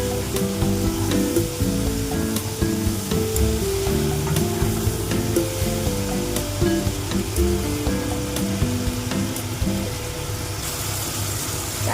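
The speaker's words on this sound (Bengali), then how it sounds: "পরিমাণ মতো লবণ হলুদ দিয়ে আমি নাড়তে থাকবো একটু।" Small mourala fish sizzle steadily in a pan with salt and turmeric as they are stirred, a continuous close frying hiss with occasional scraping under a tonal musical background.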